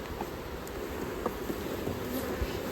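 A dense, steady hum of many honeybees buzzing around an open hive, with occasional individual bees zipping closer past the microphone.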